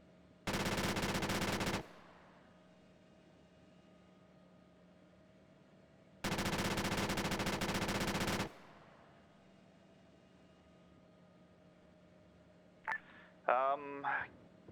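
Machine gun fire in the Arma 3 video game, two long sustained bursts of rapid automatic shots, loud and dense, separated by quiet, followed by brief radio-style voices near the end.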